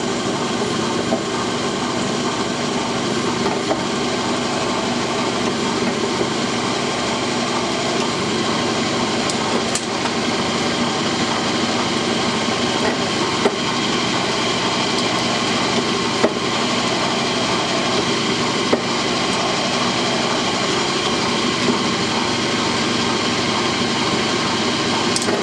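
A 5/32 bit drills through aluminum with cutting lubricant while crafting an Eagle 66 oil can. The drill noise is steady, continuous and close, with a constant drone and no talking.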